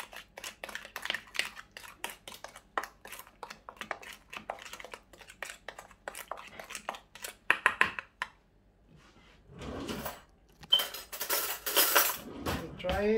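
Utensil clinks and scrapes against a dish as white sugar and mayonnaise are stirred together, a steady run of soft clattering strokes close by, pausing briefly before louder scraping resumes.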